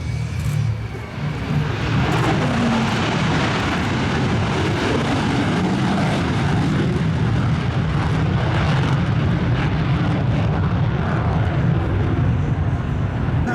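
An F-35C Lightning II fighter jet flies a minimum-radius turn at an air show, its engine a loud, continuous roaring rumble that holds steady and fills the whole stretch without letting up.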